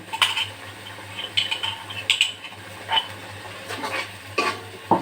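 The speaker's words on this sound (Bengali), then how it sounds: "বাটা মশলাগুলি দিয়ে দিলাম এটা আমাকে এখন কষাইতে হবে" A spoon scrapes and clinks against a pan while stir-frying ground spice paste for chicken biryani, giving sharp metallic strokes at irregular intervals over a faint low sizzle, close and fairly loud, with no talking.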